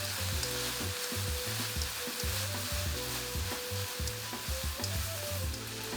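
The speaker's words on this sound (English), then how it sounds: "I'll turn the heat up just a bit and stir fry everything for about 30 seconds." Steady, dense sizzling of minced pork and tofu stir-frying in a hot pan with oyster sauce, close and continuous, with rhythmic scraping and clattering as the mixture is tossed.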